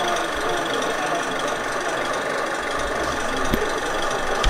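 A 1:32 scale Klv 12 rail vehicle model runs its small engine, giving a steady, close, buzzing mechanical drone with a faint rhythmic knock that holds evenly throughout, with no talking.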